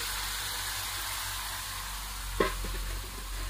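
Shredded cabbage frying in oil spiced with ground paste and homemade chili powder, a steady close hiss of sizzling with a short clatter of stirring midway.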